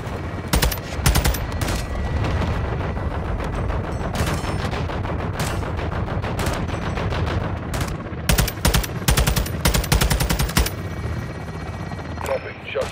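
Rapid helicopter-mounted gunfire in Call of Duty: Modern Warfare 2, loud dense bursts of automatic shots in repeated rhythmic volleys over steady rotor and battle noise, with radio voices talking beneath.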